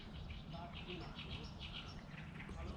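Birds chirp in quick, faint bursts over a constant hiss of outdoor ambience and insects in hot weather in Yinchuan.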